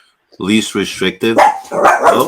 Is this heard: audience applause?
no